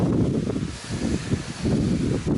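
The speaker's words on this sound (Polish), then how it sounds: "Poza tym to wiatr, no straszny." Strong gusty wind buffets the microphone outdoors in an open field, a low rumbling roar that swells and eases in uneven pulses with no voices.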